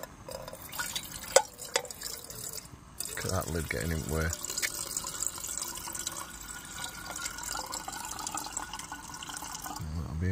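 Water poured from a bottle into a small OEX camping kettle at a wild camp, a steady trickling fill with brief drips, close and fairly quiet, under someone talking.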